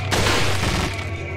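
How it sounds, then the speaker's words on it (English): A single loud gunshot cracks out in Resident Evil 4 Separate Ways, landing a headshot, followed by a short booming decay and a low rumbling tail. "That was a perfect headshot."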